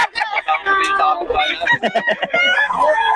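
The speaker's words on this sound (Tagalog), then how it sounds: "napakaraming manok nito ni Boss Rod." Many chickens, including Black Spartans, cluck and squawk close by on a poultry farm in Nueva Ecija, Philippines, with a rooster-like crowing call rising among them in a noisy, overlapping flock.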